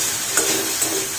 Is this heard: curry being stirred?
yes